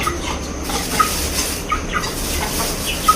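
Aseel chickens cluck in short, sharp bursts about every second or so, fairly close and clear over a steady background hiss, with no one talking.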